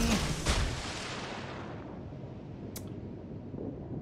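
A World of Warships torpedo launch opens with a sharp, booming thump and a second muffled burst, then fades into a long, rushing naval battle rumble with a brief crack near the end.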